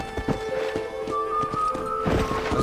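Hooves clop in a steady walking rhythm as a horse moves in Red Dead Redemption, the hoofbeats close and distinct over a soft ambient hum.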